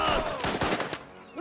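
A grenade goes off in the strategy game Last Train Home, giving a quick cluster of sharp, loud blasts and crackles over about a second, which then trail away into a short, quieter tail.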